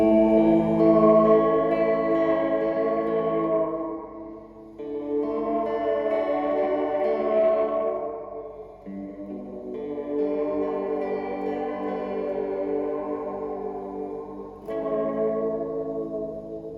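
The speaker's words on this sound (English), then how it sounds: "3 Interlock, the highest amount of bass and treble cut, the most distortion and even more artifact from the bucket pitch gauge sampling" Guitar chords through a Fender Reflecting Pool pedal's bucket brigade delay in Interlock mode, with heavy bass and treble cut, distortion and sampling artifacts, ring out in three or four sustained, murky, warbling phrases trailing into dark repeats, loud and unaccompanied.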